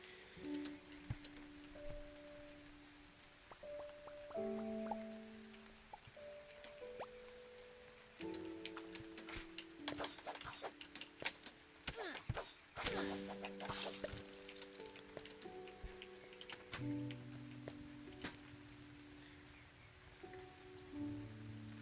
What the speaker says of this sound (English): It's raining, and the rain sounds oh so pretty.